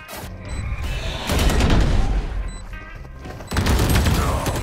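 Gunfire in the video game Valorant: loud, close bursts of rapid shots with mechanical weapon clatter, coming in several waves with short lulls between.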